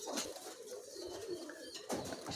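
Pigeons offered for sale coo quietly nearby, with a soft rolling call running through the middle against faint background noise and a couple of brief sharper sounds.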